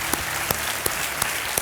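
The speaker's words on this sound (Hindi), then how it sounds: "तालियां बजती रहें देवियों सज्जनों" Studio audience on a TV quiz show claps in brief bursts, with sharp crowd applause swells returning about every third of a second over a continuous clapping bed.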